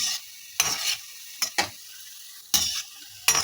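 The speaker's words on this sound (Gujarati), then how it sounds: "ધીમા ગેસ ઉપર તળવાના છે." Muthiya dumplings fry in oil over a low flame, with short bursts of sizzling and stirring that come and go in uneven spurts, close and fairly loud.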